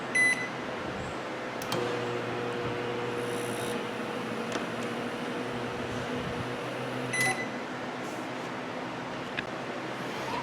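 A Frigidaire microwave oven runs to melt ice, a steady low hum with a faint electrical whine held for the full stretch, with a couple of soft clicks and a short beep-like tone near the start.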